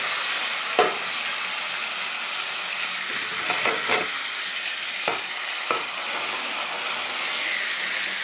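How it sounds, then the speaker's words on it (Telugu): Tomatoes sizzling and frying in hot oil in a pan for a home-style fish curry, a steady broad crackle with a few brief clinks of stirring, no voices. "టమాటానే నూనెలు వేస్తున్నానండి"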